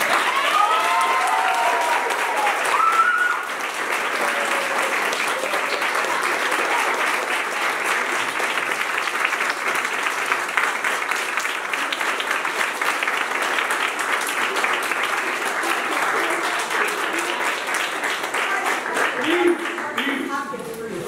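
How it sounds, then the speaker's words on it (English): Sustained applause from a crowd at a girls' basketball banquet, steady and fairly loud throughout, with a brief voice at the very start before the clapping fills in. "how about a round of applause for Coach Sam?"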